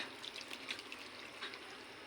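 Coconut milk is poured into a cooking chicken and vegetable dish, making a soft, continuous watery trickle with a few faint splashes, heard close and quiet.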